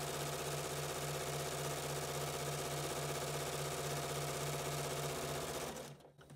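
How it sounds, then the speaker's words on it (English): A sewing machine stitches along the edge of fabric while making a surgical cap, a steady fast whirring hum close by that runs continuously before cutting off near the end. "just sew right along your edge of your fabric at the 3/8"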